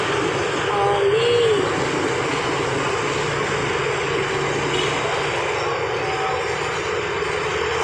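A Cangpa 1115 diesel engine runs steadily during a workshop teardown and rebuild, a dense, constant mechanical drone close by, with faint voices now and then.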